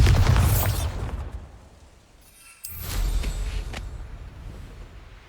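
Bombarda blasting spells go off in Hogwarts Legacy as two heavy booming explosions, the first fading into a lull before a second sharp blast with debris rattling afterward, no voices.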